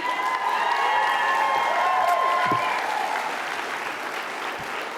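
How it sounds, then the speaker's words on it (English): Audience at a credit union awards gala breaking into a round of applause, sustained clapping with some cheering, while a musical tone or voice rings briefly over the start before the crowd noise thins slightly toward the end. "One more round of applause for Barb, please."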